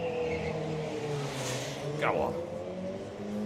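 A Peugeot street car races past on a track, its engine note rising and swelling as it approaches and sweeps by at moderate distance, with commentators talking over it.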